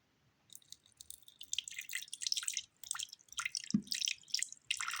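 Water splashing and dribbling into a small water dish in a tarantula enclosure in uneven bursts, close by, with brief pauses between pours.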